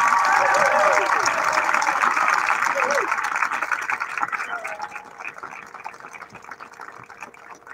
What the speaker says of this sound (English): how about another round of applause for the class of 2025?